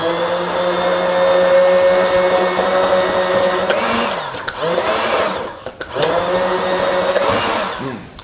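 A blender whirs steadily at close range as it finishes a yuzu emulsion. The loud motor whine shifts pitch and dips briefly twice as the mixture moves, with no talk.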